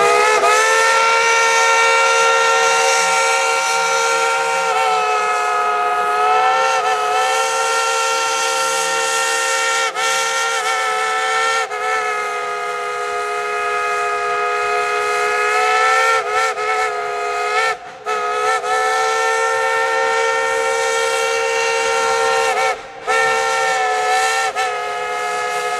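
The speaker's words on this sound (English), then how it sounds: "You want to hear a tune on that bubble locomotive whistle?" A steam locomotive whistle of the Dollywood Express blows long and loud in a sustained, multi-tone chord, with a few brief breaks, over a hissing background.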